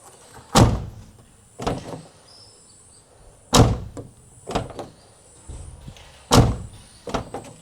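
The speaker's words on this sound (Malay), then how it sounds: "dengar dia punya bunyi pintu" A car door fitted with anti-slam rubber is shut three times, each a loud, close thud followed by a softer secondary knock, with quiet gaps between the closings.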